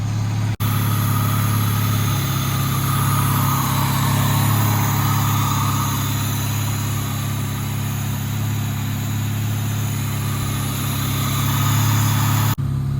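A 2000 Honda Civic's D16Y7 engine runs steadily at idle close by, a continuous even hum with a faint rise in pitch partway through and no voices.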